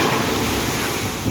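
A steady, loud wash of water and wind noise rushes past as a large boat ride at the Plopsaland De Panne amusement park splashes by, with no voices.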